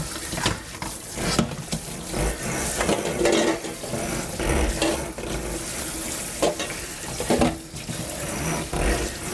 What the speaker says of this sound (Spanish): le vamos a pasar un buen golpe de agua fría